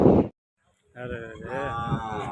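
A cow moos loudly and close, a long, drawn-out low call after a brief burst of noise and a pause; young calves are present.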